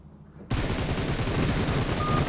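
Uzi fire in a mobile battle-royale shooter starts abruptly after a short quiet moment, then holds as a loud, continuous rapid burst of shots up close for about two seconds, with no voices.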